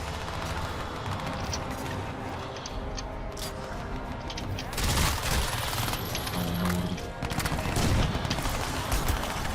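Dense, loud gunfire from a Crysis 2 firefight against aliens, with rapid overlapping shots and bursts running the whole time and growing heavier in the second half.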